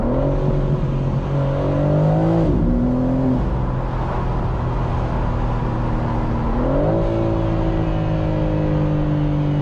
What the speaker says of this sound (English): This engine is absolutely powerful.